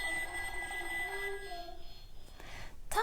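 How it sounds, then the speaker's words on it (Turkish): A telephone ringing in a children's sound book, heard as a sustained electronic tone with shifting pitches, moderately loud and close, fading toward a brief sharp sound at the end. "Just then the telephone rings."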